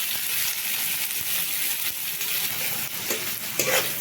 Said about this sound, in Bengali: এবার আমার কেটে রাখা পেঁয়াজগুলোকে আমি ভাজছি